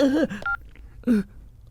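A phone number is dialed in an action film scene: a single short keypad tone beeps between brief, breathy vocal sounds, near and clear.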